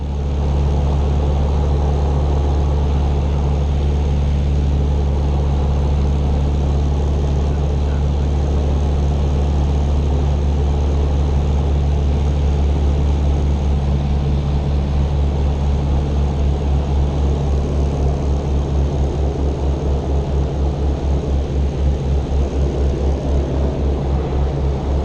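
A Miles Falcon propeller aircraft's engine drones steadily and loudly in flight, a continuous low throbbing hum with an even rhythm that never lets up, with no voices over it.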